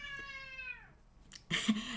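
A house cat gives one long, clear meow that slides downward and fades, followed by a brief rustle and a short low sound.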